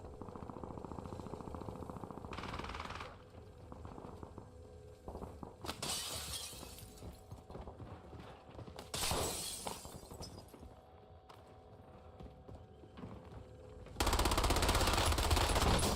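Video game gunfire in Warzone, with bursts of rapid automatic shots, crashing and shattering impacts, and a loud harsh blast at the end over continuous game noise.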